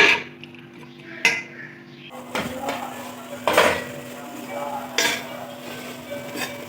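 Tomatoes with green chilies are sautéed in a pot while a metal spoon stirs and scrapes, giving sharp clanks and knocks at uneven intervals over a faint background hum.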